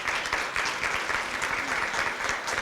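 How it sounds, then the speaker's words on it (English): Audience applause at a breast cancer awareness luncheon: a steady, moderately loud round of many hands clapping in a hall, sustained with no talk over it. "Let's give a round of applause for the luncheon."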